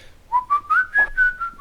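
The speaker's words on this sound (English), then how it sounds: "People don't like the whistling. I apologize." A person whistles a short rising-and-falling run of six or so notes, close and clear, with nothing else heard.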